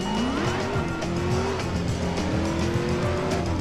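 A car driven in a video game: a continuous engine drone with shifting revs, tire squeal and skidding throughout, loud and steady with no talking.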